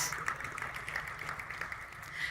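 An audience at an engineering excellence awards ceremony applauds as a speaker returns to her seat; the clapping is soft and distant, a steady wash of many hands throughout.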